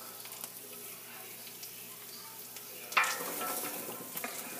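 Onions and celery with a little salt cook down in a pot for pasta sauce, giving a steady soft sizzle with occasional stirring scrapes and a louder clatter near the end.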